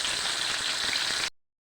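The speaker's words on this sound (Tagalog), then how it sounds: "piprituhin muna natin at saka natin ilalagay natin" Vegetables fry in a hot pan with a steady, loud sizzle that cuts off abruptly near the end.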